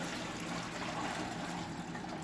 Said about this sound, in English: we're just going to pour it right through the sifter just in case any stems or pieces of debris got through